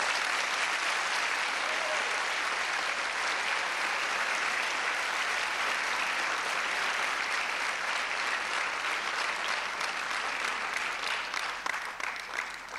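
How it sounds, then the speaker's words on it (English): An audience gives a long round of applause at a naturalization ceremony, thick continuous clapping that holds steady for over ten seconds and thins slightly near the end. "Let's give them all another round of applause."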